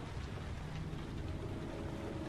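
Steady rainfall in the video game Heavy Rain, a dense, even hiss holding at constant loudness throughout with no voices.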